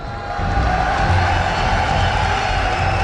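Esports fans in a packed Gamescom hall cheer for SK Gaming before a League of Legends match, the roar swelling after a brief lull and then holding loud and constant.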